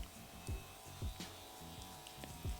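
A Foreo electric facial cleansing brush buzzes quietly after being switched on, with a low steady hum and a few short louder pulses at regular intervals.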